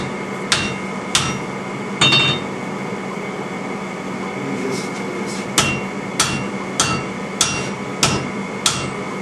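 Hammer blows ring on metal at a forge, shaping and rounding the nose of a workpiece: about ten sharp, loud strikes in an uneven rhythm, some doubled, with a low hum underneath.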